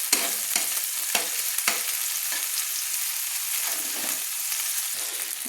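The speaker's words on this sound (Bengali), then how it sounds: "টমেটোটা যাতে তেলের মধ্যে কষানো হয়ে যায়, মানে নরম হয়ে যায়, গলে যায়, সেই জন্য আমি একটু খুন্তি দিয়ে নেড়ে নিচ্ছি" Tomato frying in hot oil is stirred with a spatula, a steady bright sizzle broken by irregular scraping strokes of the metal spatula against the pan, close up with no talk.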